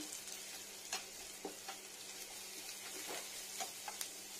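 A fragrant wet-ground paste fries quietly in a pan, a soft continuous sizzle broken by a few light clicks and scrapes of stirring.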